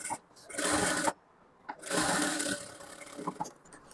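Sewing machine stitching a halter neck blouse, running in two short bursts of rapid whirring with a quiet gap and a light handling clatter between them.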